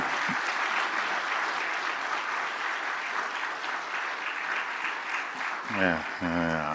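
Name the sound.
applause at handover of commission report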